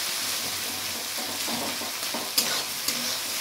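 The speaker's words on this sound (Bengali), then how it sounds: "তো চলুন পেঁয়াজটা এবার ভালো করে আরেকটু ভেজে নিই।" Salted onions frying in a pan for mutton curry, a dense, close sizzle with continuous stirring and a couple of sharper clinks of the spoon against the pan.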